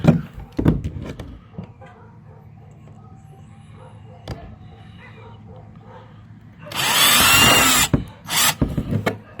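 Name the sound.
drilling a hole in a kayak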